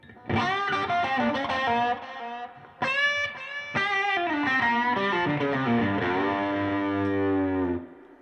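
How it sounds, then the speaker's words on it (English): An electric guitar in a live room plays chords and single notes that ring out with a delay effect, the repeats trailing behind each attack, loud and alone without talk. "Occasionally what I'll do is I'll hit a delay on, like either a slapback or a longer delay over here."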